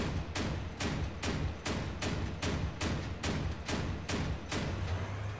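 Auto cannon tap firing in the video game Crossout, about a dozen evenly spaced heavy booming shots roughly every half second, loud and close with no talk.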